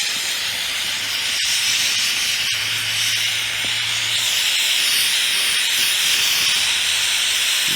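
Hissing acetone-infused oxyhydrogen torch flame heating a tree stump, a steady, loud, broadband rush that runs continuously throughout with a few faint clicks and a low hum underneath.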